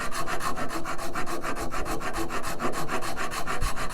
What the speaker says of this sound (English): But with the rasp, you've got to remember that it leaves the grooves that it leaves.